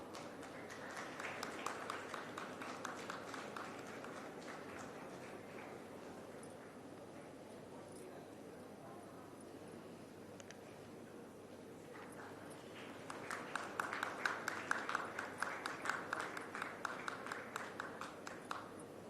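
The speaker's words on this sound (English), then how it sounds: "late applause is also always good" An audience at the inauguration of Ahmedabad Design Week applauds in two bursts of scattered clapping, moderately distant, the second louder and more energetic after a quieter stretch in between.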